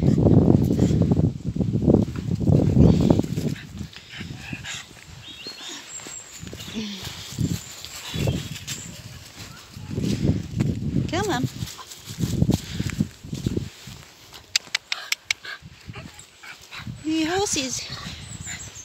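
An excited dog on a cold evening walk yips, whimpers and barks in bursts at other dogs, with footsteps and a person talking to it throughout.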